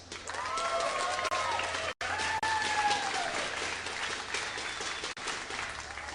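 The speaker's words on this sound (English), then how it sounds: "Give a cheer for your first semifinalist, TSLPolt." A live StarCraft tournament audience at an NASL Season 4 semifinal applauds and cheers for a semifinalist, with dense, steady clapping and crowd noise across the whole stretch and a faint voice underneath.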